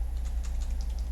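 Soft, quick clicks of a computer keyboard as the Shift and arrow keys are pressed, faint and close with no talking.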